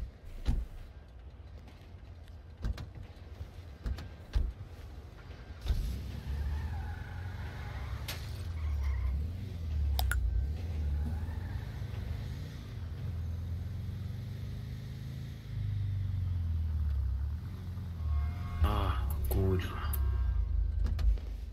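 Car engine droning and revving in GTA V roleplay, a steady low hum that rises after a few seconds, with clicks and bumps and voices talking over it.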